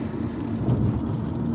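A low, rolling rumble of thunder during a storm in Las Vegas swells and fades over about a second and a half, heavy and muffled as if heard from inside a car on wet roads.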